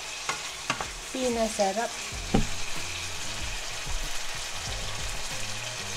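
Cucumber sautéing in butter and garlic in a pan, a steady close sizzle with stirring scrapes and clinks, briefly overlaid by a short spoken word.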